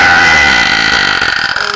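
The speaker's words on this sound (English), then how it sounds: "can you give us your second biggest burp ever?" A woman lets out a loud, long burp close to the mic, a single sustained rumbling belch that fades slightly toward the end.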